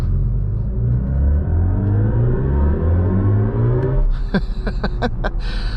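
A 2024 BMW i5 M60's synthetic sport-mode drive sound swells steadily, a smooth rising electronic hum, then shifts into pulsing, stuttering tones near the end.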